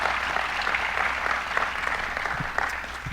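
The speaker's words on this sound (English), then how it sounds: "I'd like to recognize them and give them a round of applause." Audience applause at a state governor's bill-signing event on Long Island utility restructuring, a dense steady wash of many hands clapping filling the room for the whole stretch, fairly loud and continuous.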